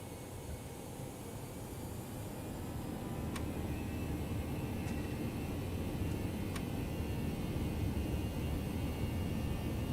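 Steady, loud engine roar of a Toliss Airbus A321 at takeoff power on the runway in the X-Plane 11 flight simulator, building slightly and holding throughout, with a few faint ticks on top.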